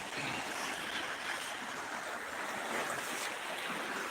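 A small village stream flows, a faint, steady wash of moving water with a soft airy rush and no distinct splashes or voices.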